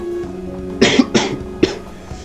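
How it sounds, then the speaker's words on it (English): A few sharp coughs close to the mic, three quick bursts in a row with a last single cough after a short pause, over a faint steady hum. "Sorry if I'm coughing during the video"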